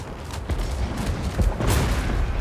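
Dwarven cannons firing in a Warhammer fantasy battle game, a dense, continuous roar of overlapping booms and blasts with repeated heavy thumps throughout, loud and chaotic like a fusillade.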